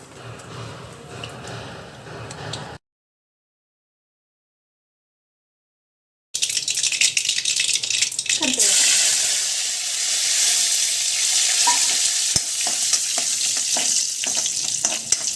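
Mustard seeds spluttering and popping in hot oil while cooking soya sukka, a dense steady sizzle with crackles that runs after a short silent gap, close and fairly loud.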